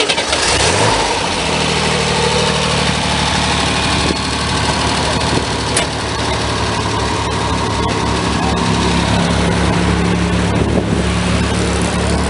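A turbo intercooled Chevrolet Corsa engine with EFI rumbles steadily at close range, idling with a few rising revs, loud and continuous throughout with no talking.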